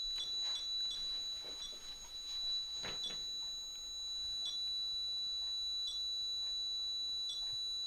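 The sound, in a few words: ghost-hunting detector device beeping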